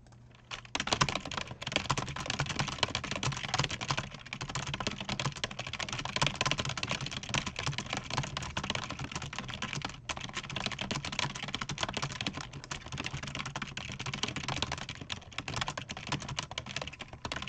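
Rapid, continuous keystrokes on a computer keyboard during a French typing game, dense clicking that runs steadily and close throughout without any talk.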